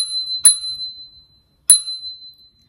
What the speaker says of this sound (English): This is the handbrake. It has a bell,